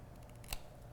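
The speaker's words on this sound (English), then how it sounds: "I'm going to cut this little bit off with scissors here." Scissors snip once through paper card stock in a single sharp, close cut while making a greeting card, set against a quiet room.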